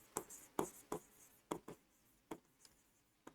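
A marker or chalk taps and scratches on a board in about eight short, separated strokes, quiet and close with a faint room background and no talking.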